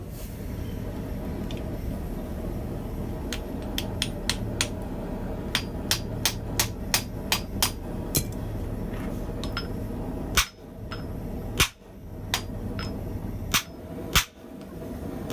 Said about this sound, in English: I'll heat the piece and then use my flatter like this.